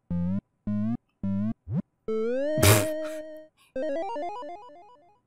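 Jumping on a bed in the video game Ghost House brings three short bouncy electronic tones, then a rising blip and a long tone that breaks into a loud crash, followed by a quick descending arpeggio of chiptune notes.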